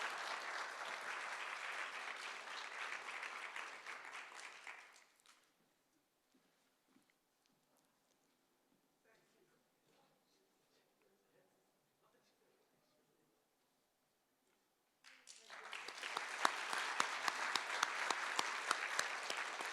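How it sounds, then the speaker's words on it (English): Audience applause at a civic community service awards ceremony swells in two bursts, the first fading after several seconds, then a quiet stretch with small rustles before a second loud round of clapping. "Please give a big round of applause to Nicole and Joan for a well-deserved Community Service Award."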